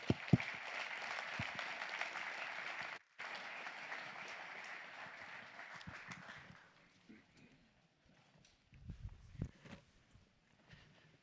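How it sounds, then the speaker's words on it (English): An audience at a Bitcoin conference applauds as a panel walks on stage, a moderate crowd clapping that fades after several seconds, followed by footsteps and quiet stage sounds. "Give them a really warm round of applause."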